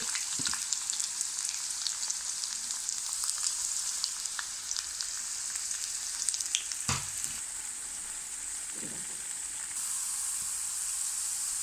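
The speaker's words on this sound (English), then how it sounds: "Now we can fry onions in hot oil" Onions sizzling steadily in hot oil, a loud continuous frying hiss with occasional scrapes of stirring.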